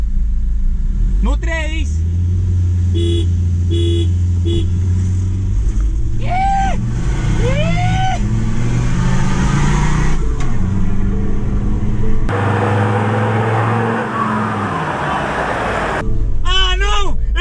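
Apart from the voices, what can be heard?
Ford Ranger Raptor pickup engine revving in a tug of war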